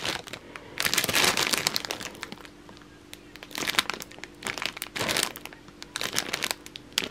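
Crinkly packaging rustles and crackles in bursts as a parcel is opened up close, with quiet pauses between handling and faint talk in the background.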